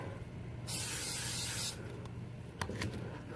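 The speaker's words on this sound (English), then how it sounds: "What I like to do is take a little bit of a silicone, blaster silicone. It's a dry lubricant." Blaster silicone dry lubricant is sprayed from an aerosol can in a single hissing burst of about a second, close by, followed by a couple of faint clicks in otherwise quiet surroundings.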